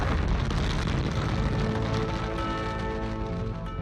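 A massive cartoon explosion destroying the town of Springfield in The Simpsons, a loud sustained roaring blast with rumbling debris that slowly settles and fades.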